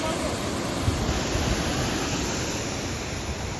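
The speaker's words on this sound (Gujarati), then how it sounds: "સરસ ધોધ વરસે છે અહીંયા" Waterfall at Bhandardhara in Maharashtra, a steady loud broadband rush of falling water filling the whole clip without a break, close by and unvarying.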